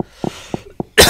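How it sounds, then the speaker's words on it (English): A person coughs several times in short separate bursts, close and fairly loud, followed by a louder, breathy noisy burst, with no talk. "Sorry about the coughs."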